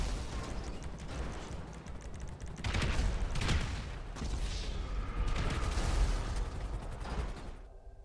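Gunfire and explosions from GTA Online gameplay roll on continuously as a dense, mid-distance barrage of pops and rumbling bursts, with mechanical clatter mixed in.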